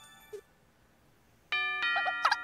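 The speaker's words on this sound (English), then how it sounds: "Ding dong." A doorbell ding-dong chime from the video game Miitopia rings out clearly after a brief soft blip, a bright two-tone electronic chime with sparkly tail, alone and without talk.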